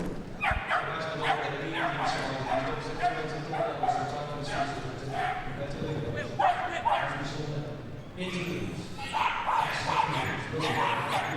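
Dog yipping and barking during a medium team agility final at Crufts 2013, several short barks and yelps heard amid a commentator's ongoing talk and arena crowd noise.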